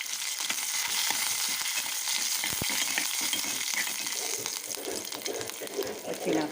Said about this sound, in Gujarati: જીરું આવી ગયું છે એટલે આપણે નાખશું લીમડો, તજ, લવિંગ અને મરચાં.